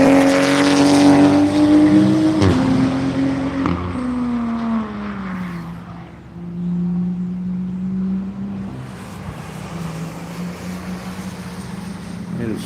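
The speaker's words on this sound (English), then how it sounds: "Here comes the Supra on the beginning of his third lap." Supra race car under way on the VIR circuit during a One Lap of America session, its engine loud and close, pitch sliding down as it passes and fades, with a commentator talking over it.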